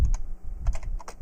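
Quick bursts of keystrokes on a computer keyboard, several close clicks in uneven clusters over a low background hum.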